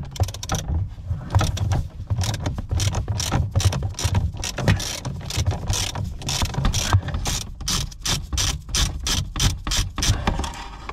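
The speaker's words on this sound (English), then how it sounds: "This allows me to get a decent extension on, and I can now undo that nut. It was quite stiff." Socket ratchet working a stiff nut loose on a Range Rover L322, rapid repeated clicking strokes in bursts with short pauses, close and fairly loud, no talk.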